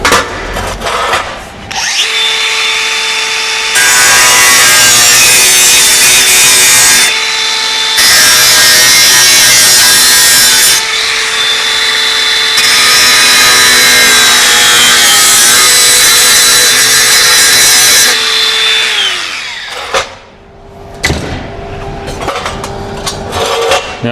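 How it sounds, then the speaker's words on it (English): An angle grinder cuts through the metal radiator cowl of a Ferguson TEA20 tractor under restoration, a loud, sustained whine in long bursts with brief pauses, then spinning down near the end. "cut it out with the angle grinder and just put a nice new bit in there and then grind it up"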